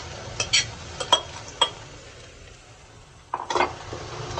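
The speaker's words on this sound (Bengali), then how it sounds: "চাউলটা ভেজে নিলাম, আর এখন আমি চিকেনটা দিয়ে দেবো।" Chicken going into a pan of frying rice for biryani, with intermittent clinks and scrapes of a spoon against the pot, a quiet stretch, then a burst of stirring and sizzle.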